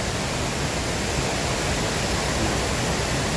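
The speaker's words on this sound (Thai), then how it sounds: "ชมบรรยากาศน้ำตกสองจังหวัด" A constant, dense roar of rushing water, steady and loud with no pauses, like a waterfall heard up close, at Song Changwat waterfall in Thailand.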